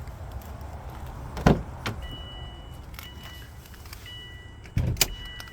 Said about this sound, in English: Let's pop the hood so you can see the power plant.